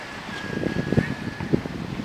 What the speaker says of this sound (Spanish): ¡Viento!